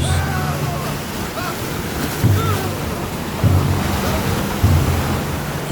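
Stormy sea waves surge and crash against a boat amid steady rushing wind, loud and close, with heavier impacts swelling every second or so over a constant roar.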